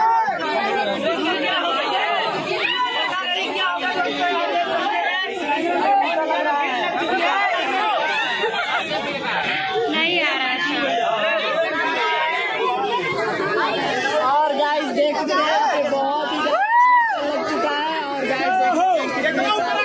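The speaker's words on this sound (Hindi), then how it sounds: "देखिए दोस्तों कितने भीड़ लगा हुआ है।" A crowd of guests chatters steadily at a birthday party, many overlapping voices forming a continuous, close hubbub for the whole stretch.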